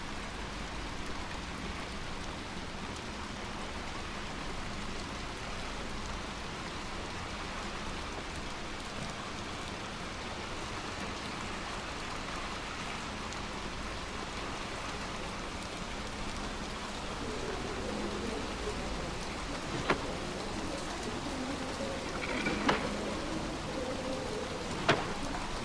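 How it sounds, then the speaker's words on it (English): Heavy rain in Little Nightmares 2's Pale City, a steady, fairly faint wash of downpour with a few brief louder knocks and drips near the end. "I really like the heavy rain in games like this."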